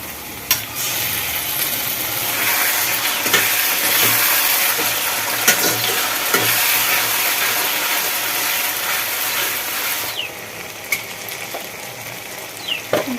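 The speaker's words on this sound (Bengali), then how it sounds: "এবার দিয়ে দেবো আদা রসুন কাঁচা লঙ্কা বাটা" Ginger, garlic and green chili paste sizzles and spits in hot oil in a pan as it is stirred, a loud continuous crackling with scraping strokes, easing slightly near the end.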